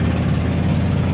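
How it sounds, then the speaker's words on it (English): A 1996 Coachmen RV's Ford 460 gas V8 with an exhaust manifold leak runs steadily, a loud, close, low rumbling drone with a rough ticking texture, constant throughout with no talking. "it's got a bit of an exhaust manifold leak"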